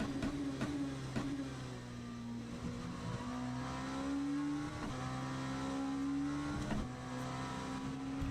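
LMP2 prototype race car engine in the sim racing game Le Mans Ultimate, a loud in-car engine drone rising through the revs with repeated sharp gear shifts, steady and close throughout.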